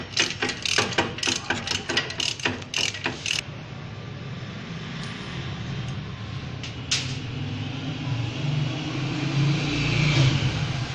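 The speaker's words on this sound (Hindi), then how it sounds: "इस गाड़ी का एक स्पार्क प्लग अभी हम खोलते हैं" A ratchet clicks rapidly in short bursts while loosening a car engine's spark plug, then stops, leaving a low engine-bay hum and faint rustling.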